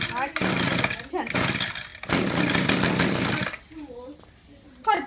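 A gas lawn mower engine sputters and catches in several loud bursts, cutting out between pulls, then settles into a quieter idle with a voice audible near the end.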